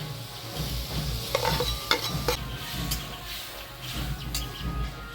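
Bitter gourd stirred into mustard paste with turmeric and salt in a pan, giving a steady low sizzle under repeated scraping stirs, close and moderately loud, with no voices.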